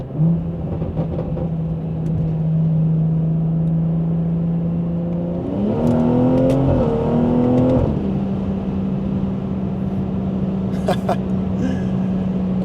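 BMW 340i with the B58 engine pulling hard on an early-morning drive, a loud steady engine drone that climbs in pitch as it accelerates mid-run, then settles back to a steady cruise with road rumble underneath.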